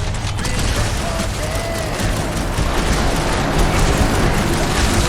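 Smart bomb blasts in the Guardians of the Galaxy video game, a dense, continuous barrage of loud rumbling booms and crackling gunfire, with battle effects and voices mixed throughout.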